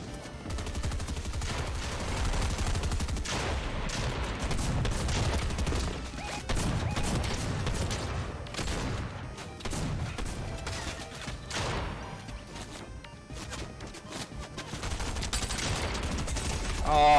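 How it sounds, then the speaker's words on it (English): Gunfire in the video game Fortnite, dense bursts of rapid shots and automatic fire that continue almost without pause, loud and close, with a voice partly under the shooting. "You're getting shot by Sloan as well."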